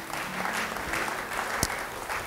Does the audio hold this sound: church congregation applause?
yes